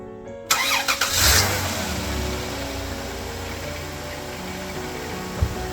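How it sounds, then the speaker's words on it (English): A Chrysler Town & Country / Caravan with a 3.3L or 3.8L V6 starting up, a short cranking burst that catches into a steady close idle hum, with a small knock near the end. "So what you want to do is start up the car,"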